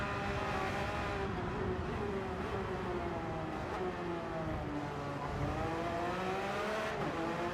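Porsche race car engine from the Iron Dames entry in a sim racing WEC multi-class race at Yas Marina, a steady loud drone with shifting tonal whine as revs rise and fall, running continuously under faint commentary.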